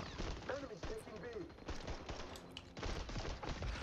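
A shotgun fires slug rounds in the shooter game XDefiant, several sharp blasts with a busy battle din between them, moderately loud throughout.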